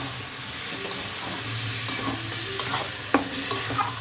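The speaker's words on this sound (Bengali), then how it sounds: "এবার মা সেদ্ধ করে রাখা তরকাটা দিয়ে দিচ্ছে এটার সাথে একটু কষিয়ে নিতে হবে" Boiled split-lentil tarka sizzling and being stirred in a hot pan, a steady loud frying hiss with occasional scraping clicks of a spatula, close up and with no voices.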